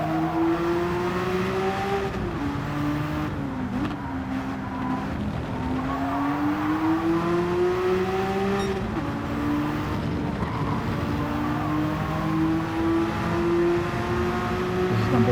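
Race cars driving at Spa in Gran Turismo 7: a close, loud engine drone rises and falls with gear changes, with other cars and tyre noise mixed in over a continuous roar.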